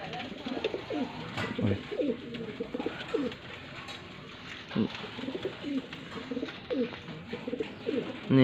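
Pakistani top pigeons, a Rampuri and golden female pair from Faisalabad, coo close by in repeated soft throaty bursts, each a short rolling phrase separated by brief pauses.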